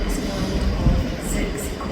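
Class 158 diesel unit 158736 pulls out of Edinburgh Waverley as an empty stock move, a low steady rumble echoing through the station with faint voices around it.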